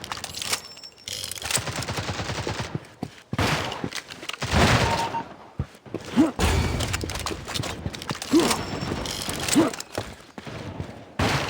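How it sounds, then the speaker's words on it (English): Revolver gunfire and reloading mechanism clicks in the mobile shooter game Critical Strike, dense bursts of shots and metallic clacks at close range, loud and continuous with brief gaps. "Reloading."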